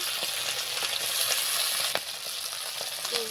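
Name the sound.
fish frying in a pan for village-style fish curry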